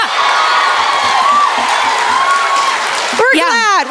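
A live My Favorite Murder podcast audience claps and cheers loudly and steadily, a dense crowd roar with whoops. A single voice cuts in sharply at the end.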